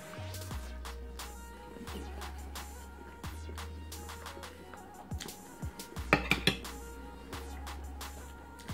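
Cutlery clinks on a plate as spaghetti bolognese is twirled with a spoon, producing a short cluster of close, light metallic taps over a low steady background hum.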